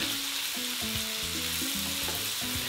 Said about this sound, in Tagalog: At ginigisa ko na yung bawang doon sa mantika ng pork.